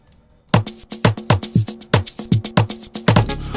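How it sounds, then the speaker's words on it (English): An astronaut lead preset on the reFX Nexus synth in FL Studio plays a bright, punchy rhythmic phrase of short repeated notes over a low kick pattern, starting after a half-second of silence and with no talking. "It has the same astronaut lead over here"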